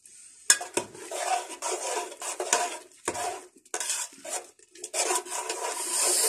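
Dal with coriander being stirred and mixed in a pot, a spoon scraping and clinking against the metal in irregular bursts with short pauses between strokes, close and fairly loud, no voices.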